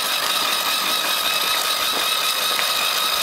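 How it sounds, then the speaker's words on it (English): A small motorcycle ridden by a child runs with a steady buzzing engine drone, close and constant, holding an even pitch without revving or voices over it. "You're riding a motorcycle."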